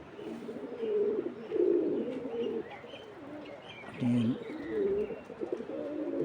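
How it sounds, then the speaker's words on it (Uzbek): Pigeons coo nearby in soft repeated bursts with short gaps between them, and faint chirps come through in the background. "Mana qushlar."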